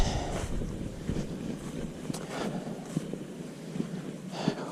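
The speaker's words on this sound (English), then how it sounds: "it sounds like coming up on another water crossing" Continuous rushing water of a stream at a trail crossing on Meigs Creek, a steady broadband wash with faint ticks and splashes over it.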